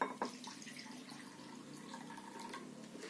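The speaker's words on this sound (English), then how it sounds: "I will pour this primary effluent into your aeration tank" Primary effluent being poured into a small aeration tank in a sewage treatment demonstration: a faint, steady trickle and splash of liquid with a few drips, no talk.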